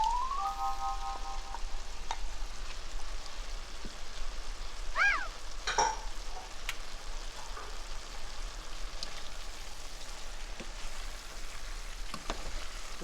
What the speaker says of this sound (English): we're going to add our fire roasted tomatoes